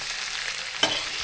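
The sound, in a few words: stirring prawns with curry leaves in a pan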